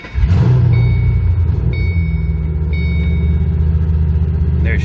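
A Ford Mustang GT fitted with an aftermarket exhaust and cold air intake, running E85, fires up and revs with a loud, deep rumble, then settles into a steady, throbbing idle close by.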